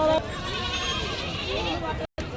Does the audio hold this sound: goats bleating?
yes